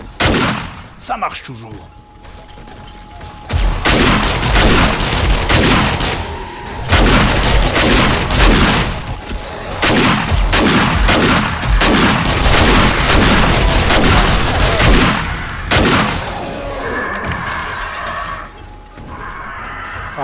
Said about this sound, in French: Une petite grenade pour les réveiller.